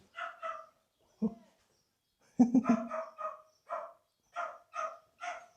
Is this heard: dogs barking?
yes